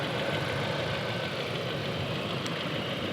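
Steady idle of a Volkswagen Tiguan's 2.0-liter turbocharged stratified-injection engine, a continuous even hum heard up close with no voices over it.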